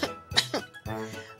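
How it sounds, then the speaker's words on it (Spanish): A few short, rough coughs from a voice acting as cartoon ghosts in a Spanish children's counting song, close and fairly loud, with brief voiced sounds between them. "Dos tienen tos."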